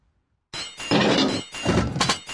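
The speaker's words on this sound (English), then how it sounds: "Destroyed an enemy ship." An enemy ship explodes in a naval battle video game, a sudden loud crunching blast with a second rumbling burst, close and heavy, with no speaking voices.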